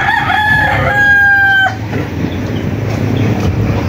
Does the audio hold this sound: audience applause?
no